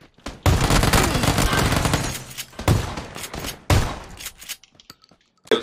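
Loud, booming shotgun blasts from a video game hit in a few heavy bursts, each with a rough, scraping tail, separated by short quiet gaps.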